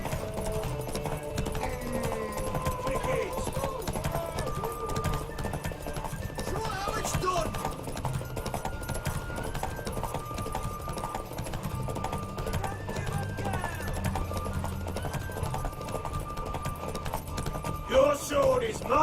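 Horses galloping in a race in The Witcher 3, rapid hoof clip-clop running steadily beneath a game music score, with a brief louder burst near the end.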